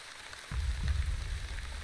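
Rain falls in the video game The Wandering Village, starting abruptly after a brief quiet moment and continuing as a soft, steady low patter on surfaces.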